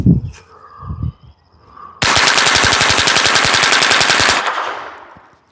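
Rapid .22 LR gunfire with CCI Mini-Mag rounds from an AR-15 .22 conversion upper, a loud, fast burst of closely spaced cracks lasting over two seconds after a quiet, muffled start.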